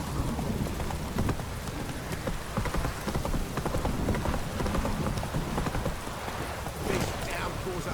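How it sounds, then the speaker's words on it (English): Heavy rain pours down in The Witcher 3 video game, a dense, constant hiss of downpour that fills the whole stretch, with rhythmic horse hoofbeats clopping steadily through it. "This downpour's a bastard,"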